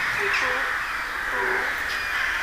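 Crows caw repeatedly at a moderate distance over a constant broad wash of outdoor noise on a high plateau, the calls coming in loose, overlapping bursts with no one talking.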